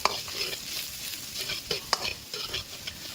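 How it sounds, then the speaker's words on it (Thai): Minced garlic stir-fries in hot oil in a wok for a Thai pork and banana pepper dish, a steady close sizzle broken by sharp scraping strokes of a spatula, with no voices. "ตั้งกระทะใส่น้ำมันลงไป แล้วนำกระเทียมสับลงมาหนึ่งช้อนโต๊ะ ผัดให้หอมเลยครับ"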